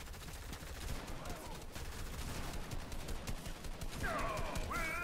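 Steady, dense gunfire fills a Fortnite match, with rapid crackling shots running continuously under game ambience and a few brief tonal effects near the end.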